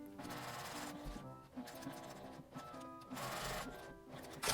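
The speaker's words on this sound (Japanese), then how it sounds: "両端に端ミシンをかけます。" A sewing machine edge-stitches along both sides of a fabric tab for a bag, running in short close bursts separated by brief pauses.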